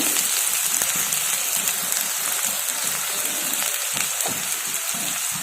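Chopped onion and minced garlic frying in hot oil in a pan give a steady, close sizzle that keeps going without a break and has no voices over it.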